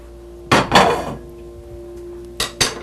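A lightly dressed salad with toasted pine nuts, radish and pear is tossed in a bowl, with two sharp clusters of utensils knocking against the dish separated by a quiet pause.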